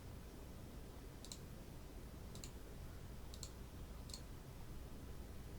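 A computer mouse clicks four times at a slow, even pace, faint and close over a steady background hiss, with no talk.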